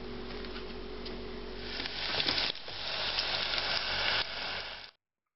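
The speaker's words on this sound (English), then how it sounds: "just give it a little bath in here before it hits the deep fryer" Battered cauliflower florets frying in a deep fryer, a steady soft sizzle and hiss that swells slightly and then cuts off abruptly near the end.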